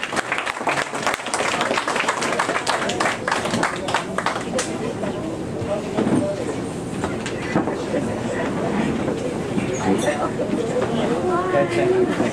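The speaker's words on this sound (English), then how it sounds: "have everybody give him a round of applause and thank him for doing this" An audience in a tavern applauds continuously for about twelve seconds, dense clapping at moderate level with some voices mixed in.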